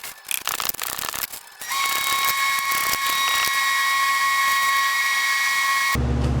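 A ratchet works on the 14 mm bottom alternator bolt of a 2007-2010 Hyundai Entourage 3.8L. Rapid close clicking gives way to a loud, steady mechanical whine that holds for several seconds, with no one speaking.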